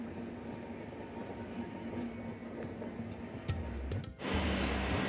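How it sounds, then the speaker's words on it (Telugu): Kerala Express train at Chittoor railway station, a steady rumble of rolling wagons and wheels on rails, fairly close and continuous, with a brief metallic clatter and a louder surge of rumble near the end. "ఈ ట్రైన్ ఏమో కేరళ ఎక్స్ప్రెస్ అన్నమాట."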